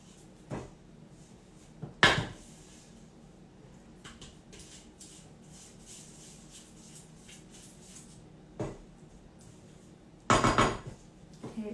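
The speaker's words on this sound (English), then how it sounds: "Make sure that all the butter at the bottom is mixed with the chocolate and everything around the sides." Melted butter and chocolate are stirred in a pan, with a spoon clinking and scraping against the metal in a few separate bursts over a low, quiet background; no talking.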